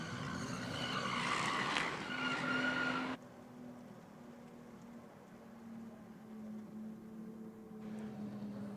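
A Holden Commodore does a burnout at Sydney Dragway, its engine droning steadily with a rough, hissing tyre roar that is loud at first, then drops to a lower sustained drone for the rest.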